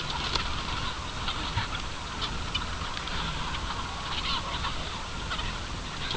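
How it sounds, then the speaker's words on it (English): A large flock of chickens feeds on soaked wheat, keeping up a dense, continuous chorus of clucking and pecking at moderate distance with no talk. "These chickens are not starved, they eat a lot, but they absolutely go crazy for this."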